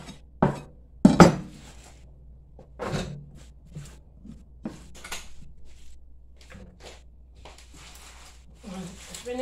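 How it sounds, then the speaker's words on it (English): A kitchen knife slices tender spinach leaves on a cutting board, giving scattered sharp thunks and clinks with quiet gaps between cuts. "Just slicing this spinach."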